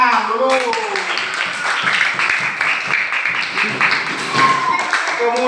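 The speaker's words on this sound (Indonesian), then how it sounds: "Nah, tepuk tangan dulu." Children in a classroom clapping hands together in a burst of rapid, scattered claps, close by, with a voice speaking over part of it.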